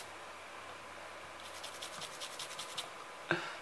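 A laptop memory module from a CCE notebook is scrubbed clean with solder flux in quick, faint rubbing strokes. The strokes come in a short rhythmic series, and a small sharp tap follows near the end.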